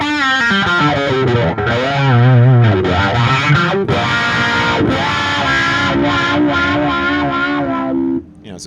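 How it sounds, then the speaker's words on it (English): An electric guitar through an Electro Harmonix Cock Fight fixed wah pedal at a NAMM 2016 demo plays loud, heavily distorted notes with vocal, trumpet-like sweeping tones, several sustained phrases, then cuts off abruptly near the end. "kind of more like what a wah pedal was supposed to be with like a trumpet. It's supposed to really imitate a trumpet."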